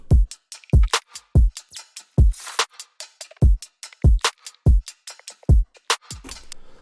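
A drum loop, heavily sidechained, pumps in sharp rhythmic bursts, with punchy kick and snare hits and reverb tails swelling and ducking between them in a steady electronic groove.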